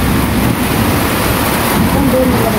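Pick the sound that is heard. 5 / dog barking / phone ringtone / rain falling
rain falling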